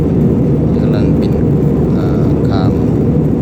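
A steady, loud low-pitched roar of an airliner in flight between Hanoi's Noi Bai airport and Vientiane's Wattay airport fills the cabin, with voices talking faintly over it.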